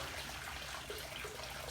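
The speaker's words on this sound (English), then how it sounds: "hot water from the kettle down in the sink to use as my shave water" Hot water from an electric kettle pours into a sink to make shave water: a steady, close splashing stream that runs unbroken, with no talking.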